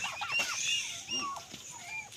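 Turkeys clucking and gobbling in a backyard range: several close birds give overlapping clucks and warbling calls in quick irregular bursts, fairly loud and without any talking.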